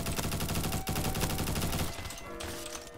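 Dense, continuous rapid gunfire in a video game, loud and fast, easing into scattered shots toward the end.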